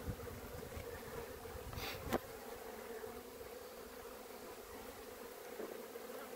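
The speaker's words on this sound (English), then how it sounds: "I got a good number of bees in this hive" Honey bees buzzing in a hive, a steady low drone of many bees close by with the occasional louder individual bee passing near.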